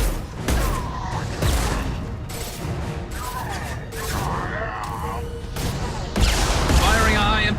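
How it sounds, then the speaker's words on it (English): Heavy gunfire from a high-impact shot in the Mass Effect 2 game, several loud booming blasts and crashes spread across the stretch amid dense combat noise and voices. "Firing a high-impact shot."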